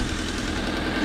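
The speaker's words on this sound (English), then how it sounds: "Oh, I hear an exhaust leak." A car engine idling with an exhaust leak, a close, steady low rumble carrying a faint rapid ticking pulse throughout the brief stretch.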